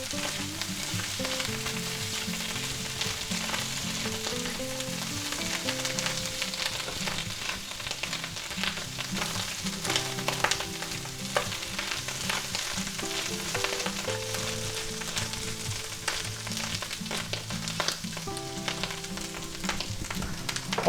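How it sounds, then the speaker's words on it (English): Mushrooms sauté in garlic butter in a pan, a constant close sizzle and crackle with occasional scraping stirs, under faint background music and no talking. "let's give them another stir"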